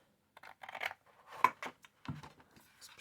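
Scissors cut card along score lines for an exploding box craft, a few short, close snipping and rustling strokes separated by brief pauses.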